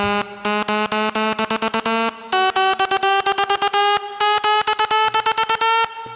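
A lead synth, a bright buzzy electronic lead playing a fast staccato melody of short repeated chopped notes, loud and alone throughout.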